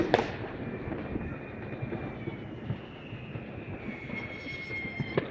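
A cheap New Year's firework rocket shot up from a rooftop slab whooshes skyward with a long, steady rushing hiss and no burst, loud and close over faint background noise.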